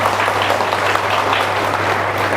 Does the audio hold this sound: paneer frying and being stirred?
no